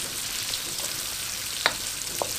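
Chicken stir fry sizzling in a pan over high heat, a steady broadband crackle with a few sharper pops and spatters, close and continuous with no talking.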